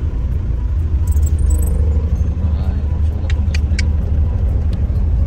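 Road traffic in a long jam rumbles continuously with car engines, a loud, dense low drone and a few brief higher squeaks, with no clear talk over it.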